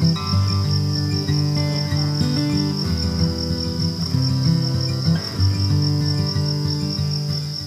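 Dense, continuous chirping of many crickets at a Thai cricket farm where the insects shelter among egg-tray panels, a steady high trill running the whole time with a low hum beneath and no voices.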